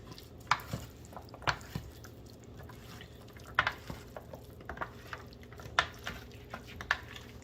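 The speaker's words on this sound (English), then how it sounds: "mixing up, starting from the bottom, because you want to make sure there is a nice blend" Vegan potato salad being stirred and mixed in a bowl, soft squishing and scraping with a few sharper clinks spaced through the mix, close and quiet, with no talking.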